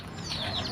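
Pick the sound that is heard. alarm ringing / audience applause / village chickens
village chickens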